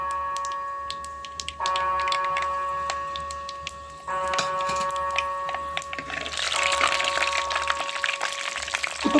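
Fenugreek seeds crackle and tick in hot oil for a Tamil tamarind curry with green turkey berries, after mustard seeds have finished popping; the steady close crackle grows denser and louder toward the end, with no talking.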